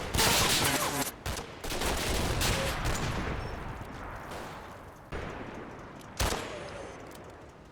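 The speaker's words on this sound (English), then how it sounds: "Forward observer team call an end to the artillery barrage." A wartime artillery barrage and heavy gunfire in Combat Mission, Operation Epsom, on the road to Cheux: loud, dense rumbling bursts with sharp blasts at intervals, fading between impacts.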